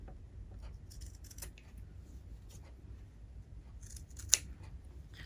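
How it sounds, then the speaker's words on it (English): Scissors trimming the fabric seam allowance of a sewn reusable coffee sleeve, faint close snips and light metallic clicks over quiet room hum. "you're going to use your scissors to go along here"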